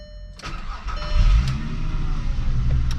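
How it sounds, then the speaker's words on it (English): A stock VR6 engine in an MK4 Jetta wagon cold-starts with a sharp starter whir, then catches into a loud, rumbling idle that settles and holds close by. "Let's get a little cold start action here."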